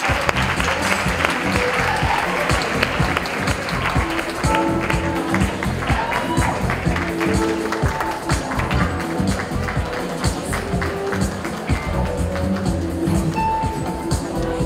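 A large audience gives loud, sustained applause at the Premios Latino 2017 awards ceremony, a thick wash of many hands clapping close and continuously, with crowd noise and voices mixed underneath.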